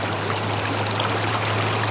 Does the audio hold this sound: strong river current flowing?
yes